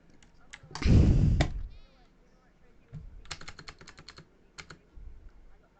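Computer keyboard typing, bursts of quick close clicks and key taps after a loud thump and muffled knock near the start.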